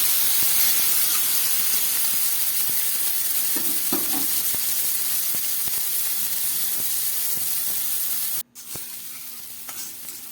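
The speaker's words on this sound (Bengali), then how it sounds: "পেঁয়াজটা একটু হালকা করে ভাজা করে নিচ্ছি" Onion frying in oil with black cumin (kalo jeera) in a pan makes a loud, continuous hissing sizzle with a few light stirring clicks, then briefly cuts out near the end before resuming.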